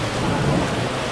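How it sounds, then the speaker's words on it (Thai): Heavy rain falls steadily and loudly on an overcast morning, a constant close hiss with no breaks and no voices. "วันนี้ฝนมาแล้ว"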